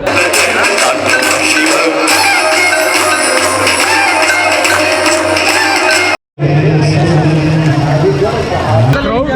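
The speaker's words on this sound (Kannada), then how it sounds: "ಕ್ರೌಡ್ ನೋಡ್ಬೋದು ಇಲ್ಲಿ ಫುಲ್ ನೋಡಿ ಕ್ರೌಡ್." Dense crowd gathered for the Ganga Aarti on the riverbank in Varanasi, a loud steady hubbub of many voices with shuffling and background murmur, a brief dropout midway, then the babble resumes.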